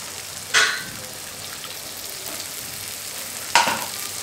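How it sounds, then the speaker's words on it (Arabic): A small spoonful of butter melts in a frying pan heated for a sauce, giving a faint, steady sizzle broken by two brief sharp scrapes or clinks a few seconds apart. "ندوب فيها شي شويه ديال الزبده، واحد المعلقه صغيره"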